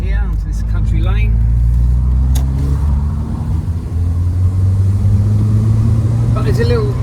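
A 1988 VW Golf GTI drives along a country lane, its engine humming and droning steadily from inside the cabin, pitch shifting slightly as it pulls, with someone talking over it.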